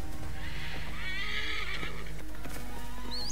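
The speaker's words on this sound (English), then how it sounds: "Now the horse has come back fully non-injured." Horse in the video game Assassin's Creed Origins, neighing and whinnying over steady clip-clop hoofbeats, set against a constant game ambience with no talk.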